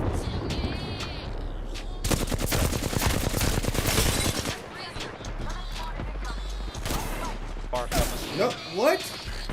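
Video game gunfire crackles in rapid, dense bursts of automatic shots, loud and close, with pauses between volleys and voices talking over the action.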